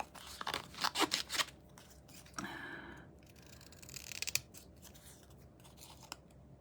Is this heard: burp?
no